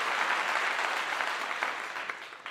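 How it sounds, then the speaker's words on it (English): A burst of hand clapping, steady and dense for a couple of seconds before tapering off, with no voices over it. "I got to give you a clap"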